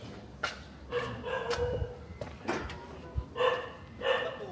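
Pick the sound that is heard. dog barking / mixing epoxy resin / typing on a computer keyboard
dog barking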